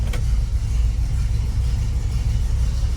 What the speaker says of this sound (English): Little truck starts up and runs like a watch.